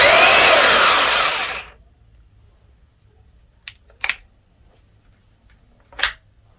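A Bosch GBH 2-26DFR rotary hammer, genuine and counterfeit, runs in normal drilling mode: a loud, dense whir for under two seconds cuts off abruptly, then a few faint clicks follow in near silence.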